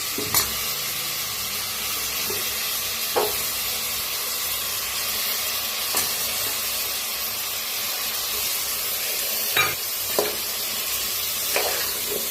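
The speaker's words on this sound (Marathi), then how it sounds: "तर छान भाजायला लागले तर सगळं मिक्स करून भाजूया।" Eggplant and potatoes roast in a hot pan with a steady, close sizzle and hiss, broken every few seconds by sharp scrapes and clacks as a spatula stirs and mixes them.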